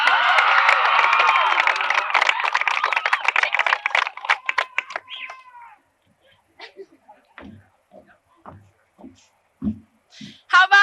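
A 1989 high school graduation audience breaks into loud applause and cheering for several seconds, then thins out to scattered claps and voices.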